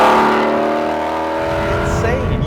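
A sports car engine revs hard and loud up close, a sustained throaty roar that climbs in pitch toward the end.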